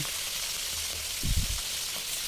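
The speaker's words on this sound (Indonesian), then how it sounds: "kita siapkan minyak, lalu kita goreng ayam yang udah kita diamkan di kulkas tadi ya selama 1 jam" Chicken pieces, marinated and chilled for an hour, frying in hot oil for nasi lemak: a steady close sizzling hiss with a short, louder bubbling burst in the middle, and no talking.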